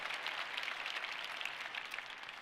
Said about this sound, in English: let's give them one big round of applause for getting the power back.